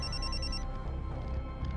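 A mobile phone rings nearby with a repeating electronic ringtone that chirps in a quick rhythmic pattern, then fades into a muffled ringing over background room noise.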